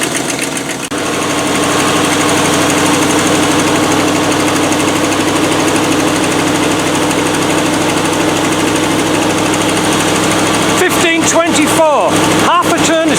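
A Land Rover NATO 110 with a V8 engine starts cold and settles into a steady, loud idle at raised revs, with some rattling and knocking disturbances near the end.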